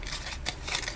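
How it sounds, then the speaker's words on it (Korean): Scissors snip through the petals of a pine cone during a craft session: a few dry, crisp cutting crunches, close and fairly quiet, with no talk. "그래서 여기를 가위로 잘라"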